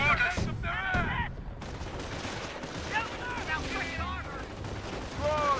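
Artillery barrage and rapid gunfire from the World War II strategy game Company of Heroes, with dense overlapping shots and booms in continuous battle noise, loud and close, and sharp bursts standing out above the din.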